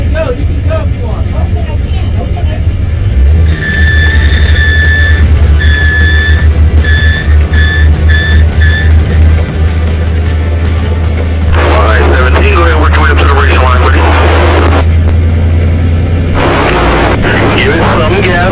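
A race car accelerates on a track: a loud, sustained engine roar with a droning low rumble and rising whine, close and heavily saturated, with bursts of harsh noise and a voice calling out over it.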